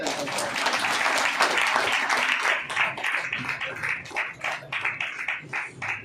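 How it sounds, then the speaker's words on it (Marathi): A church congregation claps in steady, full applause that gradually thins and turns more uneven toward the end, with a faint voice underneath. "आपण टाळ्या वाजवून प्रभूमध्ये"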